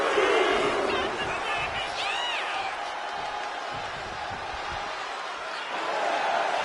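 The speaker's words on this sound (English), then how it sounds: "And now she's feeling the energy from the crowd." Wrestling arena crowd roaring and cheering steadily throughout, a broad wash of many voices with occasional shouts and whistles rising above it, loud and sustained.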